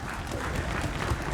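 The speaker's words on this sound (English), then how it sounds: "give an applause for your parents" An audience at an honor orchestra concert applauds the players' parents, a dense, continuous wash of clapping from a crowd, moderately loud and slightly distant, with a few voices mixed in.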